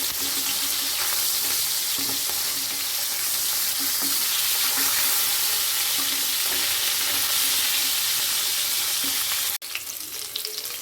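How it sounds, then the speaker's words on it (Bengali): Flipped katla fish pieces fry in oil with a loud, even, continuous sizzle, briefly cut off near the end before a choppier crackle resumes. "মাছগুলো হালকা লাল করে আমি ভেজে নেব"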